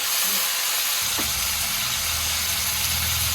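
Chalta (elephant apple) pickle frying in a pan for a Bengali-style sweet and spicy achar, a continuous loud sizzle and hiss with a brief scrape partway through, no talking.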